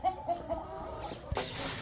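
Hens cluck softly in a few short, moderately close calls amid low ambient noise, followed by a brief burst of broadband rustling.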